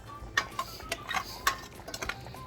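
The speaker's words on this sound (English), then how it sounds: "we're just going to stir this until we get a thick kind of sauce" A utensil stirs a thickening sauce in a pan, giving soft irregular scrapes and light metallic clinks at an unsteady rhythm, quiet and close, with no talking.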